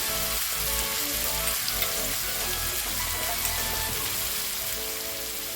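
Red chili powder sizzling in oil in a pan of red pumpkin curry on low gas, a dense, steady crackling hiss that holds evenly throughout with no voices.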